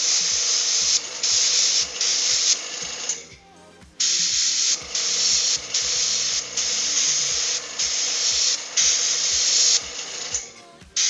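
An airbrush sprays paint onto a belt on a Wild West Exodus miniature in a steady hissing rush, running in long bursts with brief pauses and faint clicks between them, close and loud.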